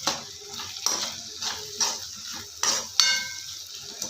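Onion and tomato mixture being stirred with salt in a pan, giving a run of soft scraping strokes with a few brighter metallic clinks of spoon on pan, close and fairly quiet, with no talking.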